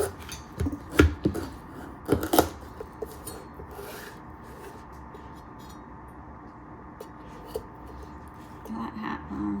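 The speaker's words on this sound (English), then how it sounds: "I'm literally just gonna cut it in half." Knife cutting a baking pumpkin in half: a few scraping, crunching strokes near the start, then quieter rubbing and faint scraping, close up in a kitchen.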